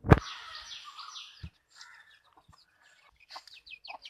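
Laying hens on a backyard poultry farm cluck and call in short, scattered bursts, with a sharp knock at the start and a few quieter chirps and pauses between the calls.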